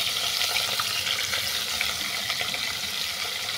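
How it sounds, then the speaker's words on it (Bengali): Hilsa fish pieces fry in hot oil while being turned until brown, a steady close, dense sizzle with no talking. "উল্টো পাল্টে বাদামি করে ভেজে নিচ্ছি।"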